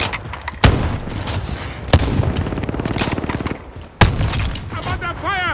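Call of Duty gunfire and blasts in Verdansk: a few sharp, loud booming shots stand out over a steady crackle of distant firing, with a voice speaking near the end.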